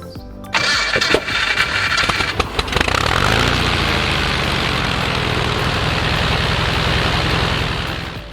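A light aircraft engine with a Hartzell propeller starts up with sputtering bursts, then settles into a loud, steady running drone that holds close and continuous.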